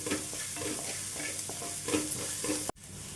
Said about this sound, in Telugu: ఇది కొంచెం బ్రౌన్ కలర్ వచ్చేంత వరకు వేయించుకోవాలి.